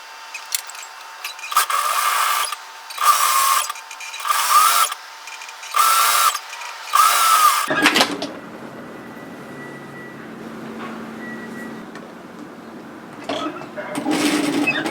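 A sewing machine stitches fabric in five short whirring runs, close and fairly loud, before stopping and giving way to quieter handling noise and some talk.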